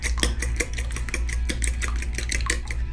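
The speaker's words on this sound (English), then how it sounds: "Finish this up by just beating the eggs." Eggs being beaten in a bowl for a pepperoni pizza pie, a fast, even run of close tapping clicks as a utensil whips through them, continuous and fairly loud.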